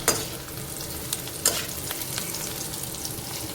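Onions sauté and are stirred in a pan for a matar paneer, a steady close sizzle and crackle with occasional scraping stir strokes and small clinks, no voices.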